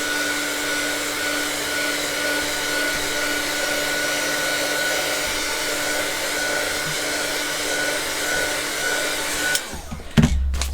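A hair dryer drying paint on a stained glass window blows close and steady for about nine seconds, then cuts off with a few soft knocks as it is set down.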